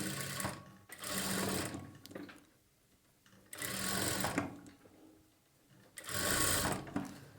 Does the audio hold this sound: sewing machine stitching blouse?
yes